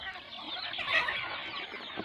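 Local chickens on a small poultry farm cluck and chatter in a continuous soft jumble, close by, with no voices over them.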